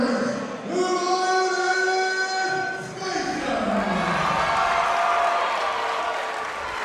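Crowd at a women's boxing event, a broad steady wash of cheering and applause with scattered shouts and whistles, loud and continuous throughout, with voices audible in the mix.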